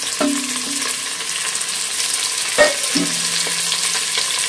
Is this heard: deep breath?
no